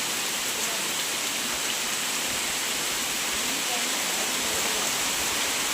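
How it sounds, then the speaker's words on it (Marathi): Heavy monsoon rain pours down steadily on a garden in Konkan, India, a dense, loud hiss of water striking surfaces with no let-up throughout. "पाऊस बघ एवढा पडतो, बापरे."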